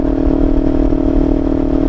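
A Kawasaki Ninja 500 motorcycle with an aftermarket exhaust rumbles loud and close, a steady throbbing engine note with no voices.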